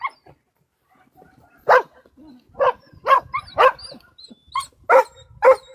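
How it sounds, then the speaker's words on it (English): A dog barks in a quick series of about seven sharp, loud, close barks after a short quiet stretch, with faint whimpering between them. "No barking"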